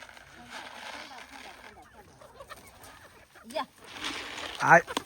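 Country hens at a village market give scattered clucks over a low bed of background voices and bustle, ending with a louder, sharper squawking burst close by.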